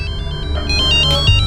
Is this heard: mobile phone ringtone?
yes